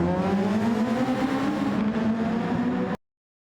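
Formula race cars screaming along the track at Mount Fuji in the Project SF1 racing game, a loud, close, sustained high engine whine with rising pitch through upshifts, cutting off abruptly near the end.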